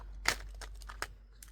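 Oracle cards being shuffled by hand, giving a few brief papery crinkles and riffling bursts, fairly quiet and close, with no talking over them.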